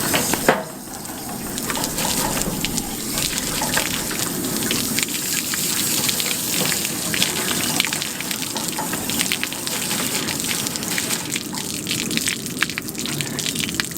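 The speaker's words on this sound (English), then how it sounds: "I'm just going to give it a final rinse before we bag it" Running water pours steadily over a butchered rabbit carcass during a final rinse, a continuous close splashing gush with no talk.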